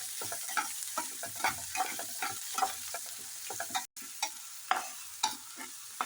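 Sliced onions and green chillies frying in a pan for a masala curry, a low steady sizzle broken by repeated soft scrapes of stirring, with one very brief dropout partway through.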